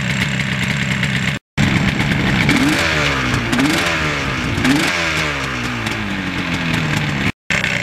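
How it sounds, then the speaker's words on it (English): A 1977 Yamaha RD400 motorcycle engine runs steadily with the choke on in cold outdoor air, a loud, close, uneven idle with a few throttle swells partway through and two brief dropouts. "Now when it's running with the choke on, it's really smoky"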